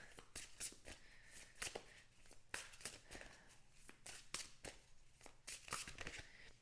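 A deck of tarot cards is shuffled for a pick-a-card reading, giving a steady run of quick, crisp riffles and slaps that repeat close by, with soft talk underneath.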